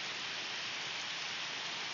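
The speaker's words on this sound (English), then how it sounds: "It's the rain. It's pretty loud. Since I am in a barn with a tin roof," Heavy rain drums on the tin roof of a barn, a loud, dense and unbroken hiss with no voices over it.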